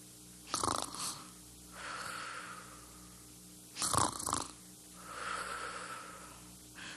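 A man snoring, two long, rasping inhales with a snort at the start of each, followed by softer, breathy exhales, close and alone in a quiet room.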